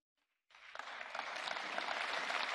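Warm, sustained applause from a large audience follows Juncker's State of the Union speech, starting abruptly after a moment of near silence and then swelling into a steady, dense clapping.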